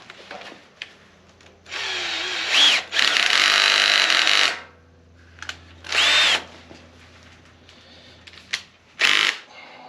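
An electric drill runs in several bursts while modifying a metal brake, whirring loudly for a second or two at a time with quiet pauses between.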